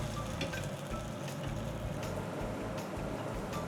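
Belarusian potato pancakes (draniki) fry in a hot skillet with a steady, close sizzle and scattered small crackles throughout, with no talking.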